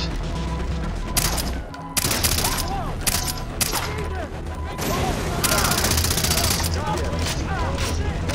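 Heavy gunfire in Far Cry 3 fills the scene, rattling volleys and single shots with brief gaps, loud and close, with scattered game sound effects mixed in.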